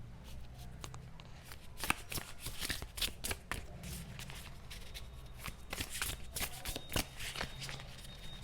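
Tarot cards being shuffled by hand on camera, a steady stream of crisp riffling flutters and slaps in close, repeated bursts with brief pauses between them, no voices.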